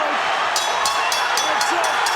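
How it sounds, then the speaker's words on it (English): A boxing arena crowd roars in a constant, loud, wash-like cheer during a Pacquiao–Marquez fight, with a commentator talking over it. "Listen to the crowd, folks."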